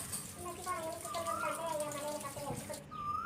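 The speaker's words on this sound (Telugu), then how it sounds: "తర్వాత ప్రాపర్గా వాష్ చేయండి." Tap water running over sliced potatoes being washed for chips, a steady close gush with splashing under a person talking, the flow cutting off near the end.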